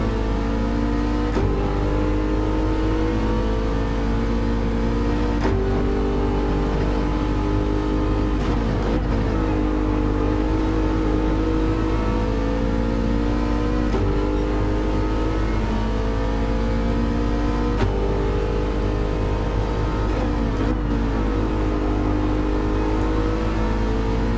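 Racing cars in Gran Turismo 7 at Atlanta drone loudly and continuously, with the near engine repeatedly revving up through gears and easing off, other cars close by in a tight pack.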